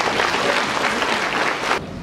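Audience applause at the official opening of IUM's academic year in Namibia, a brief, full round of clapping from a seated crowd that stops abruptly after a couple of seconds, leaving quieter room sound.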